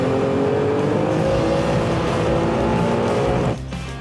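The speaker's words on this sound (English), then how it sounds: "I honestly believe I can hear the car." A V12 car engine drones steadily and loudly at a constant speed, a dense rumbling roar that continues without pause before dropping off abruptly near the end.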